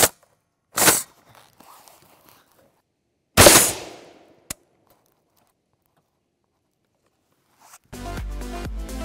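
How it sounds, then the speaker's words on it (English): A .50 BMG Mark 263 armor-piercing round fired at mild steel plate outdoors, two loud sharp gunshot blasts with a crack between them, followed by music at the end. "We flipped our steel around, and we'll take a shot of our Mark 263."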